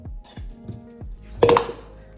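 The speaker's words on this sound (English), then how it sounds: "and just chop it. And just roughly chop it." A knife roughly chopping ingredients for chicken huaraches lands as several sharp, close thunks on a cutting board, followed by a louder clattering knock.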